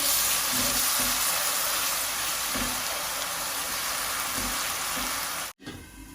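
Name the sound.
blended onion and dried fish frying in pan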